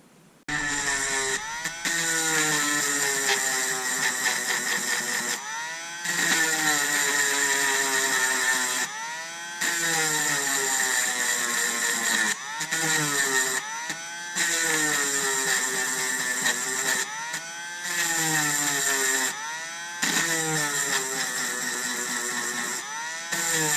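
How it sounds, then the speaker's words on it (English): An angle grinder cuts the contacts off the end of a Dyson DC30 battery pack in a run of loud whining bursts. The pitch sweeps up and down as the disc bites, with short pauses between passes. "I'm going to grind the contacts off the end of this battery"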